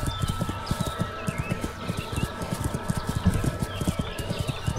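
Horse hooves clip-clop over uneven terrain in Kingdom Come: Deliverance, a quick steady rhythm of close thuds with faint ambient outdoor sound and no voices.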